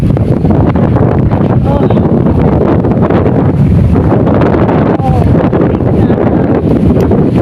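Strong wind gusting under a eucalyptus tree, a loud continuous roar of rumbling buffeting on the microphone with rustling throughout, and no clear talk.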